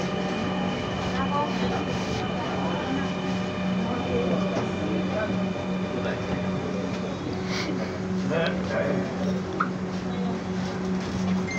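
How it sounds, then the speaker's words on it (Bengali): Dhaka metro train standing at Mirpur 11 station, a steady loud hum of carriage machinery and air handling running throughout, with a few faint clicks and knocks rising over the drone. "ট্রেনটি মিরপুর 11 স্টেশনে থামলো।"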